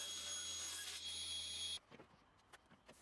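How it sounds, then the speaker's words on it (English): Table saw cutting a joint into a wooden panel: a steady high whine with a broad rushing hiss for nearly two seconds, then it cuts off, leaving a few faint knocks. "The table saw makes a quick but clumsy first cut for each joint"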